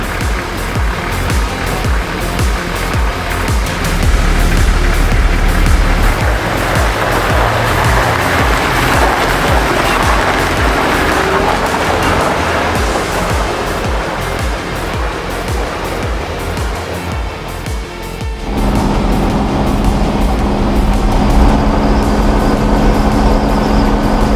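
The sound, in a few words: Toyota Troopy truck driving on highway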